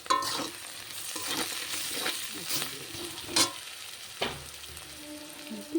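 Sizzling from a frying pan as onions fry with turmeric, with repeated scraping strokes of a spatula stirring, a few sharper clacks, close and moderately loud.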